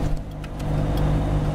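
A Jaguar E-Type sports car drives around town, its engine a steady mid-pitched hum with low rumble that stays close and even for a moment.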